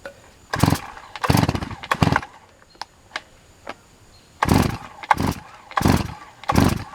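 Pull-start attempts on a chainsaw being readied for sawing firewood logs: two bursts of rapid cord-pull rasps and sputters, a few faint clicks between them, then another cluster of pulls, nearby and fairly loud in a dusty outdoor setting.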